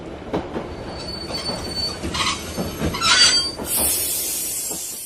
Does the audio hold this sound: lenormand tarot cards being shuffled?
no